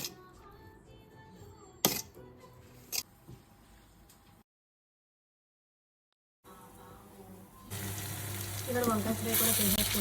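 Tempering for pulihora frying in a pan during home cooking for a Varalakshmi Vratham, heard as a faint crackle with clicks early on, then a gap of silence before a louder steady sizzle builds.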